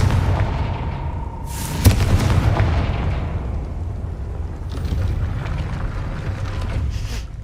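A Confringo explosion spell in the video game Hogwarts Legacy: a sharp burst and boom near the start, followed by a long rumbling decay with smaller crackling blasts later on.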